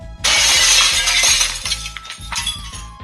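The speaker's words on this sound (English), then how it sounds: "Suddenly, Batman crashes through the window." Window glass shatters loudly as Batman crashes through, a sudden bright burst of breaking glass followed by tinkling shards and a second crash over a low rumbling backdrop.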